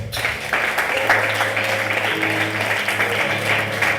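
A church congregation claps steadily together, a dense sustained applause close by with a held musical tone underneath.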